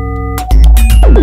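Synthesizer tones from a modular setup running alternative firmware, steady harmonic sine-wave pitches blending into each other that give way to loud, dense shifting tones with gliding sweeps and a filter being modulated, all alone without voices.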